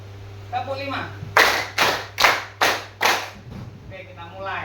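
Group clapping a rhythm pattern in a classroom drill, five crisp, loud claps evenly spaced in a steady beat, framed by a teacher's voice speaking just before and after.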